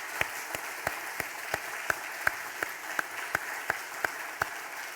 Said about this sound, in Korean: 우리 다시 한번 박수로 하나님께 큰 영광을 돌리겠습니다.